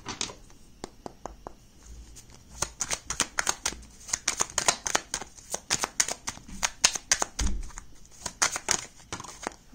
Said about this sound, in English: I'm just gonna pull out a clarifying card.